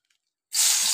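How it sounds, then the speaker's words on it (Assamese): Dry red chillies hit hot oil in a kadai, a sudden loud hiss and sputter bursting in after half a second of silence and holding steady, close up. "এতিয়া মই এই কড়াইতে অকণমান তেল দিম, শুকান জলকীয়াখিনি ফ্ৰাই কৰি ল'ম"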